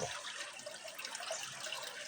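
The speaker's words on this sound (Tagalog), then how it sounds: "yan ang likas na malinis na tubig galing sa bukal" Clean spring water flows in a river with a steady, soft, close wash and trickle, quiet and alone.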